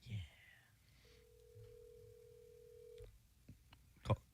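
A telephone call goes out during a live radio broadcast: a single steady ring tone holds for about two seconds, quiet and alone, with faint clicks and brief noises around it.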